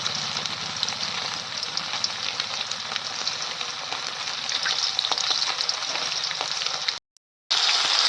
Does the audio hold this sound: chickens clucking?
no